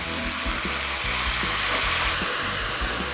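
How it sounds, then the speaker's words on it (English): Loud, steady sizzling of crawfish balls frying in a hot pan, with occasional clacks and stirring sounds underneath. "that sizzling is so loud, I almost got a scream in here"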